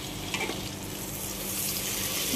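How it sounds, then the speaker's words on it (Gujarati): Cumin seeds tempering in hot butter and oil for matar pulao, giving a steady, moderately loud sizzle and crackle throughout, with no voices. "એની અંદર જીરાનો વઘાર કરી લઈશું"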